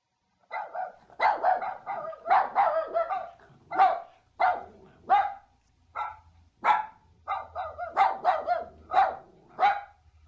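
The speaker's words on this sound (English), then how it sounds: "here's a puppy to reassure you a little bit" A puppy barking in a quick string of about a dozen sharp yips and barks, some overlapping, fairly close and loud, with brief gaps between bursts and no talking.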